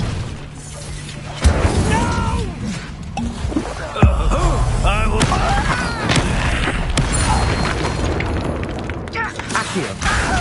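Incendio fire spell blasts and other spell effects in the video game Hogwarts Legacy, loud booming bursts and crashes over a dense, busy game mix, with a voice shouting spell names throughout.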